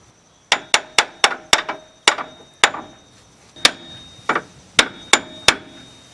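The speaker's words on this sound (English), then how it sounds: "it just takes a little bit of tapping to get it in there" Sharp metallic hammer strikes ring out one after another as an upper control arm is tapped into place on a 4x4 Ford Ranger, a quick burst of taps, then a pause and a few more spaced blows, close and loud.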